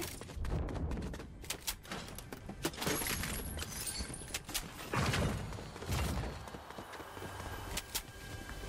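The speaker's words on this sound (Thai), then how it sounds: "เสียงปืนอยู่ไม่ใกล้ไม่ไกลเลยค่ะ" Rapid bursts of video game gunfire in Fortnite crackle in a dense, continuous clatter with sharp cracks, fairly loud throughout, with no talking.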